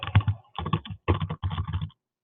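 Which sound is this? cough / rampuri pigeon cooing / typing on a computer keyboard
typing on a computer keyboard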